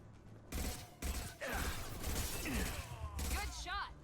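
Gunfire from the video game Mass Effect 2 crackles in rapid bursts with shattering impacts and mechanical clatter, loud and close amid game effects.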